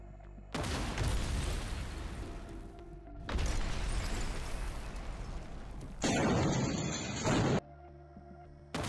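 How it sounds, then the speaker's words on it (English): Grenade launcher fire aimed at a house holding soldiers: long stretches of heavy, roaring blast noise, loud and close, broken by abrupt cuts between bursts, with no voices. "Two soldiers of the Russian armed forces first fired 2 shots from a grenade launcher at the house where the soldiers of the armed forces of Ukraine were staying"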